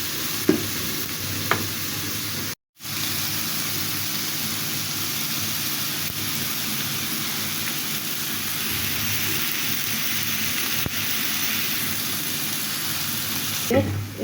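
Noodles and vegetables for chicken chow mein stir-fry in a pan, giving a loud, steady, rain-like sizzle that runs almost unbroken except for one brief drop to silence.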